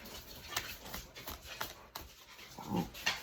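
Pet dogs pant quietly and rhythmically indoors, close by, with faint shuffling and a brief soft whimper.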